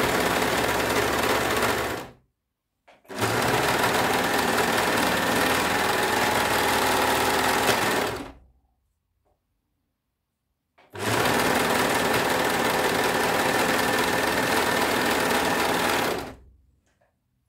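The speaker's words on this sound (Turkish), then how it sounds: "Diğer yanını da dikiyorum" A sewing machine stitches the side seam of a raglan-sleeve dress, giving three runs of steady, close motor whirring: a short burst, then two longer stretches, with brief silent pauses between them.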